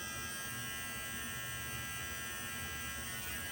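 A Remington T-Series MB7050 hair and beard trimmer buzzes continuously while trimming a mustache, a close, steady electric whine with no pauses.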